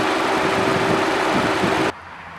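A Nissan Altima's i4 2.5-liter engine runs at a steady idle, an even broadband hum with a faint tone, close and unbroken until it cuts off abruptly near the end.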